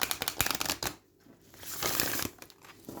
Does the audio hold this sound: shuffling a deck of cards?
yes